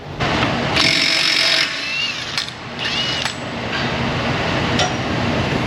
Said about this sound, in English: Impact gun's stronger than me.